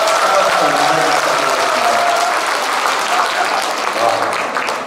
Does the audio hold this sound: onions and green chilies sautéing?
no